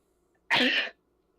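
A single sharp sneeze bursts out close up, lasting under half a second, set against near silence.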